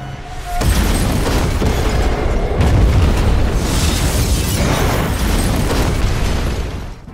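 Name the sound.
large explosion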